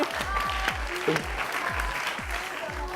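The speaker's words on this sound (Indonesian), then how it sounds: "tepuk tangan buat Dita semua di sini." A studio audience on an Indonesian TV dating game show claps steadily over a thumping musical beat, with the applause filling the background throughout.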